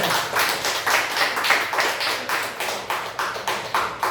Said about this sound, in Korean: 우리 다시 한번 우리 장하자 집사님 위해서 우리 한 박수 한번 칩시다